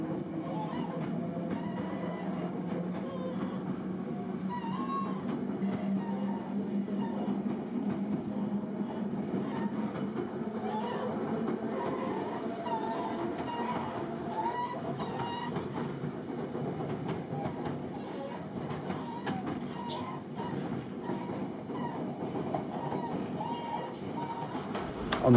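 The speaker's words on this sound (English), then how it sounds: "we take one final rattle up the pier to Ryde Pier Head." A 1938-era Isle of Wight train rattles up Ryde Pier with a continuous low rumble and rhythmic wheel clatter, steady and moderately distant throughout.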